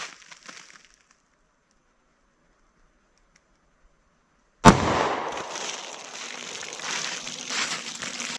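Single sharp, loud 9mm ARX gunshot fired into a ballistic test box, preceded by a long near silence, with a rumbling echo and noisy rustle trailing afterward.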